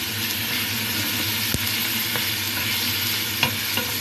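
Lots of onions and garlic being sautéed in a pan for minestrone soup, giving a steady close sizzle with a few faint stirring clicks and no talking.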